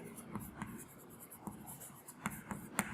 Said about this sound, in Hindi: चलिए आंसर लिख लेते हैं, यहां लिखेंगे